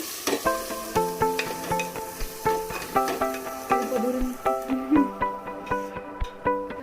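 Mutton curry being stirred in a pan gives a run of close, rhythmic scraping and clinking strokes roughly every half second, each a bright metallic tick over a low sizzle.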